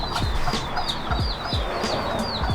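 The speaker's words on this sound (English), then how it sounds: "Oh look, oh my chickens. They're like free roam." Free-roaming chickens clucking in a steady, uneven chatter of short calls, close and moderately loud over a low background rumble, with no talk.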